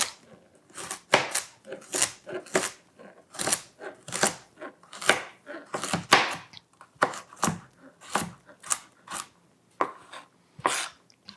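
A knife chops peeled carrots into rough slices for turkey soup, striking a board in a steady series of crisp, close thunks, about two per second, with pauses between runs.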